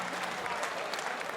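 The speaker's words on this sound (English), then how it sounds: "round of applause for our two fighters" Audience applause at a welterweight boxing bout, a dense, steady wash of clapping from a crowd after the final round, with faint voices mixed in.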